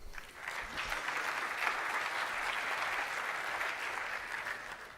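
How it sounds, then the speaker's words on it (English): A conference audience claps steadily for a Django talk's speaker, a dense and even round of applause lasting several seconds with no talking over it. "So a big round of applause for Raphael"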